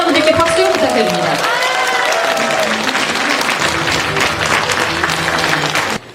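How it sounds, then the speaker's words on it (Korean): Loud crowd applause with scattered cheers and voices, clapping sustained throughout before cutting off abruptly at the end. "시민평가단 분들께 박수 부탁드립니다."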